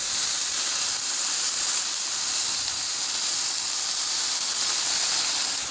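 Steady, dense hissing sizzle of veal strips searing in a hot pan, constant and close with no talking.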